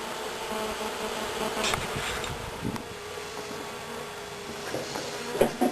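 Honey bees from a newly installed package settling into a Bee Buddy hive, a steady close buzzing drone from many bees fanning, with occasional louder passes of individual bees.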